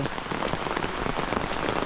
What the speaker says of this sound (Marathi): पावसाच एवढा पडतो आहे